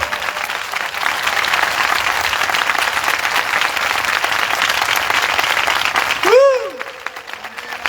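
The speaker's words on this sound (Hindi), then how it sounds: "आइए यीशु के लिए जोरदार ताली बजाएंगे।" Loud, dense applause from an audience at a praise and worship festival fills about six seconds, then stops abruptly as a voice begins speaking.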